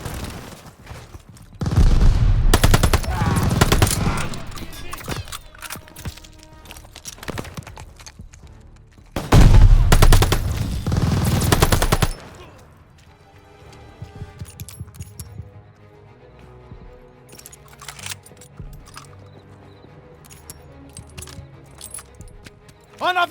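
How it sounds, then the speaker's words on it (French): Machine gun fire from a tower position in Call of Duty Vanguard bursts out in two loud, dense, rapid volleys, followed by scattered lighter shots and battlefield noise. "La mitrailleuse de la tour!"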